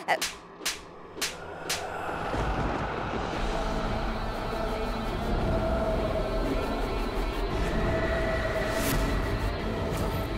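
A train passes with a few sharp clanks at first, then a steady, loud rolling rumble that runs through the rest of the clip.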